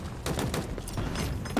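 Recoilless weapon gunfire in Halo Infinite, a continuous run of loud, rapid shots with short bursts packed close together and no speech.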